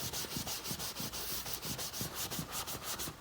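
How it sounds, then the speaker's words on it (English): Rhythmic back-and-forth sanding rubs at the surface of a leather sofa to strip off the PU lacquer and paint, each scratchy stroke close and steady, repeating roughly every quarter second with no talking. "All we're doing at the moment is just taking off the PU lacquer and the paint that's on the surface"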